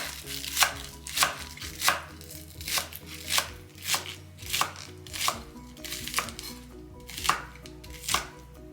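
A single green onion being chopped on a cutting board, a steady run of crisp knife strokes about one per half second, close and clear with no talking.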